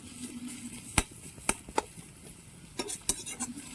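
Thinly sliced onions stirred with a ladle in a pan, heard as a few sharp metallic clinks and scrapes over a soft sizzle.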